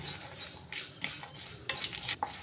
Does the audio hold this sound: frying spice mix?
yes